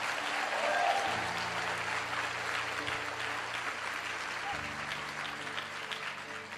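Seminar audience at a motivational talk gives sustained applause, a thick, even patter of clapping with a voice and some tonal sound running underneath.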